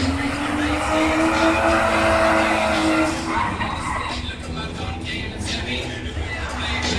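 A drift car performs a burnout at a Latvian drifting season-closing event in 2015, its engine roaring and tires squealing loudly for several seconds before easing into a rougher rumble, with an announcer talking over it.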